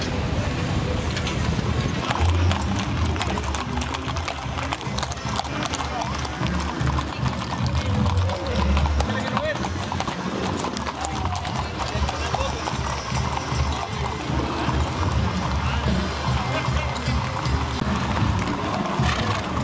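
Horses' hooves clip-clop steadily through an anniversary parade in Apodaca, Nuevo León, alongside a cart, with crowd chatter and voices running over the continuous hoof beats.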